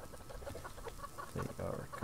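Two chickens clucking excitedly nearby, in short agitated bursts that grow louder toward the end, with some background noise.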